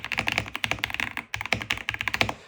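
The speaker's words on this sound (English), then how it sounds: "All right, let's do some typing tests here." Typing on a Tecware Ghost 75% mechanical keyboard: a steady run of crisp, close key clicks in quick irregular bursts, with a short pause midway, loud and alone.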